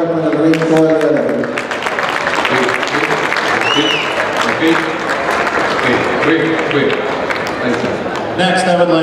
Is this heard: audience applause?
yes